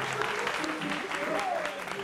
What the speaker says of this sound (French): Applaudissez pour le jumeau de Cyril.